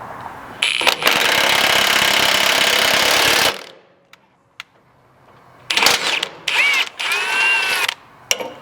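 Impact wrench tightening a bolt into a rib nut on a third-generation Toyota Sequoia frame for a slider install, a loud sustained burst of hammering for about three seconds, then quieter clanks and several shorter whirring bursts near the end.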